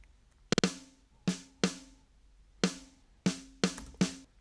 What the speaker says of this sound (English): So this is the snare drum on its own,